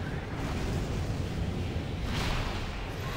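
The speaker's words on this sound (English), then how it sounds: "Oh, big explosion!" A missile explosion in the mech combat game Armored Core for Answer, heard as a loud, continuous broadband rumble with a brighter blast surge about two-thirds of the way through. No talking is audible.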